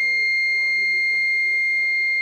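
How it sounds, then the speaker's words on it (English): A loud, continuous high-pitched electronic buzzer tone from a soil moisture sensor alarm, triggered with the sensor dipped in water, sounds without a break while voices murmur faintly underneath. "Then output indication LED is on and also beep, alarm, buzzer."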